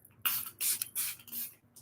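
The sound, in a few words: makeup setting spray pump spraying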